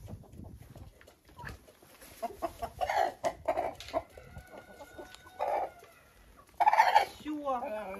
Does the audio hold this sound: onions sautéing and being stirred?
no